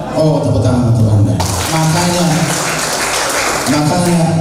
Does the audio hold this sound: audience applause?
yes